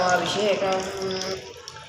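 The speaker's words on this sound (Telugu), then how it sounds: "ఇక్కడ వచ్చేసి ఫ్రెష్ వాటర్ అయితే పడుతున్నాయి" Fresh water runs from a water purifier outlet, a close, steady splashing trickle that fades out toward the end, with a voice speaking over it.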